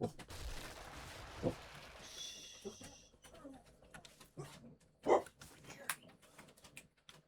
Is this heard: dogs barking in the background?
yes